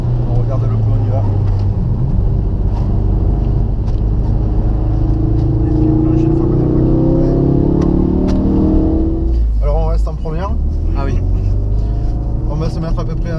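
A Ford Focus RS engine accelerating hard, a loud close rising drone with climbing harmonics that peaks and drops at a gear change before pulling again, with a voice talking over it.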